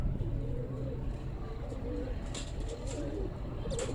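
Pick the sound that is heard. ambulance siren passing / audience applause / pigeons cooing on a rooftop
pigeons cooing on a rooftop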